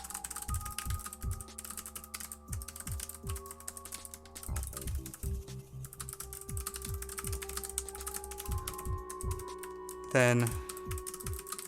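Typing on a computer keyboard, with steady rapid clicks and key taps continuing throughout, close and moderately loud, with a brief spoken word and a sharp clattering burst near the end.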